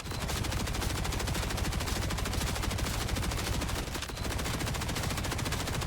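Rapid, continuous automatic gunfire from a weapon in the video game Borderlands 4, a dense, loud stream of shots with a brief break near the end before firing resumes.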